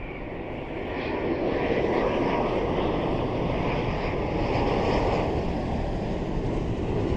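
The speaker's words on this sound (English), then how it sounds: "Touchdown. Oh, he touched down early, eh? Wow. That's Ethiopian Airlines A350" An Ethiopian Airlines A350 jet lands at Toronto airport, a broad steady roar building over the first second and holding loud and continuous, with wind buffeting and no talk.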